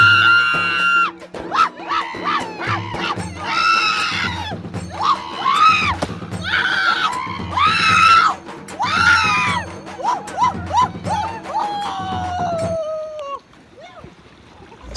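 People scream while sliding down a water park slide. Loud, repeated yells rise and fall over splashing water and keep going for about thirteen seconds before stopping.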